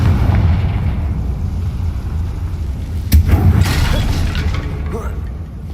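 A Confringo blasting curse from a video game goes off as a sharp bang followed by rumbling debris over a loud, continuous low game rumble.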